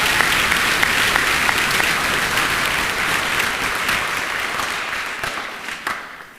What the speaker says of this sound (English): I'd like to give our speakers one more round of applause for their words of encouragement and wisdom.